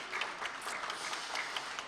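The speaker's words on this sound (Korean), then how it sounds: "자, 크게 박수 한번 쳐주십시오." Audience applause at a commemorative event, a steady wash of many hands clapping heard from some distance, fairly quiet and even.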